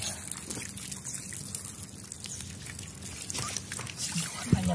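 Water trickling and sloshing while a car battery is rinsed clean, a steady low wash of liquid with a faint knock near the end.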